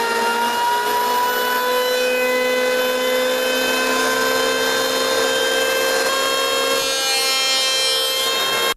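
A Harbor Freight 7.5 amp handheld electric planer shaves wood with its blade set to the lowest depth, giving a loud, steady high-pitched motor whine that runs unbroken throughout, with no talking.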